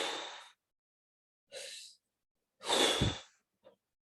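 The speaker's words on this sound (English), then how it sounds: "breathe in and breathe out 3 times" Three slow, deep breaths in and out taken during a calm breathing exercise, each a soft airy rush separated by pauses, with a brief faint catch of breath at the end; no talking.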